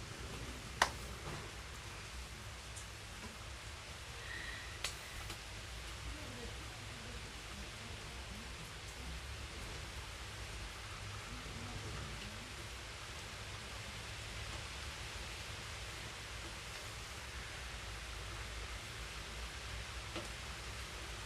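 Soft, steady rain falling outdoors in Thailand, a faint continuous hiss with a couple of brief drip or tap sounds near the start.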